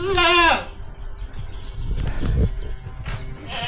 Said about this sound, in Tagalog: Alam ko 28 na yung kambing natin.